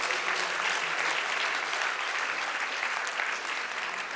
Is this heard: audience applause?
yes